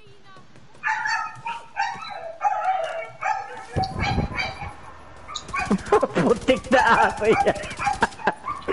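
A dog barks in quick, sharp bursts close by, mixed with yips and whimpers, while people talk over it during an online co-op session of a video game.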